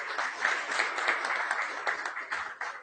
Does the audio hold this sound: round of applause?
yes